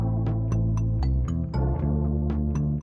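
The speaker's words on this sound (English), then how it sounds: "So like a very filtered drum sound" A chopped drum loop, heavily filtered, taps out light percussive hits across a sustained bass-heavy bed that changes pitch several times. It plays steadily without voices and stops abruptly at the end.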